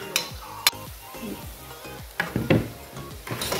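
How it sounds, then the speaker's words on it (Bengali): A layered snack deep-frying in oil over high heat, a steady bubbling sizzle broken by knocks and scrapes of a metal utensil against the pan, close and moderately loud, no voices. "এখন আঁচটা বাড়িয়ে দিয়ে লাল করে ভেজে তারপরে তুলব।"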